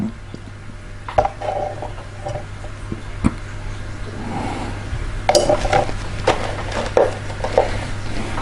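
A brush stirs and taps inside a small pot of Tamiya X20A paint and thinner mix, giving irregular close clinks and scrapes over a low steady hum.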